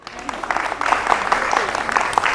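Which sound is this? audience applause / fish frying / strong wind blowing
audience applause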